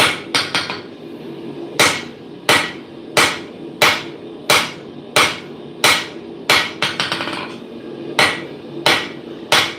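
A hammer forge-welds the lap joint of a socketed chisel on an anvil, striking in steady, heavy blows about every 0.7 seconds with a few quick lighter taps between, each a sharp, ringing metallic crack close at hand, with no voices.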